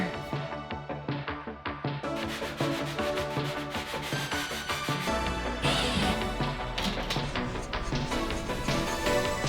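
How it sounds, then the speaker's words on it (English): Wood filler in nail holes is sanded by hand with quick, rhythmic back-and-forth rubbing strokes, close and fairly quiet, continuing steadily throughout. "When you're sanding holes like this, you really want to sand it until you can't feel where the hole is"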